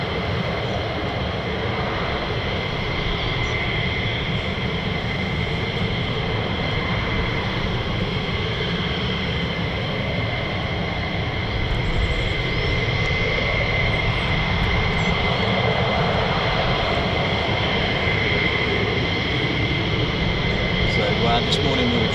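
F-15E Strike Eagle and F-35A fighter jets climbing out from RAF Lakenheath, a steady broad roar holding for the whole stretch, fairly distant and continuous with no breaks.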